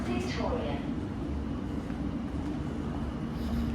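Busy train station ambience at London Victoria: a low rumble and crowd murmur, with someone talking nearby.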